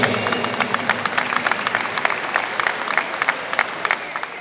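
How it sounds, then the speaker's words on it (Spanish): An audience at a karate federation awards ceremony breaks into sustained, lively applause, a dense wash of many hands clapping that stays loud throughout. "Un gran aplauso que se sienta también para Valeria Echever"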